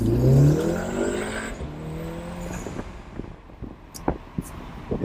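A Volkswagen Golf R MK7 with a Bull-X catted downpipe pulls hard close by, a throaty engine note rising for a couple of seconds before fading into road and wind noise with scattered knocks.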